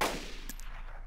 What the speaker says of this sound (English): Going to take a shot.